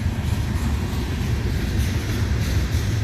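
A long freight train rumbling steadily past, a continuous low-heavy roar of railcars with faint clatter, close and loud throughout with no talk.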